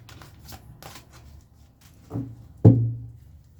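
A tarot deck is shuffled up close: light papery riffling, then two soft thumps as the cards are squared and set down.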